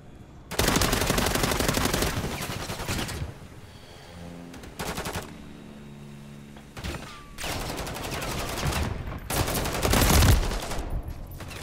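Bursts of automatic gunfire from Modern Warfare III on the Rust map: several loud, sustained volleys separated by brief quieter gaps, with no talking.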